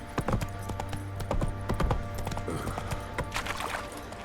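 Hooves of the horse Roach clip-clop in a steady trot through The Witcher 3, close and fairly loud, with faint game ambience and no talk.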